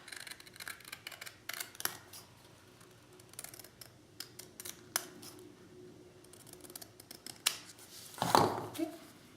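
Scissors snip through white cardstock in a run of short, crisp cuts spaced a second or two apart, ending in a louder rustle of handled card, close to the listener with no voices.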